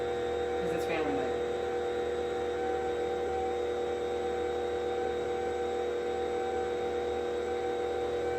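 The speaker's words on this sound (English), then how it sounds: "The mixer is loud." A kitchen stand mixer kneading gluten-free vegan pizza dough, a steady, unbroken motor hum and whine that holds at an even level throughout.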